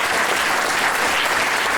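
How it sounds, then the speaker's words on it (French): A room of attendees at a public campaign meeting in Vincennes claps warmly and densely for Senator Laurent Lafont, a brief, even burst of applause with no speech over it. "que je vous demande d'applaudir chaleureusement"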